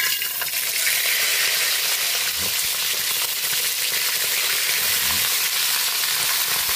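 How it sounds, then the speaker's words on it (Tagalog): Loud, steady sizzling of fish frying in hot oil, a continuous crackling hiss close up with no voices. "Prito na po tayo ng ating pritong isda."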